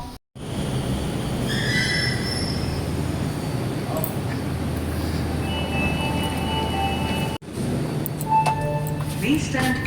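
A metro train arrives at Chunniganj station, rumbling loudly and steadily with high squealing wheels, close by; voices mix in near the end.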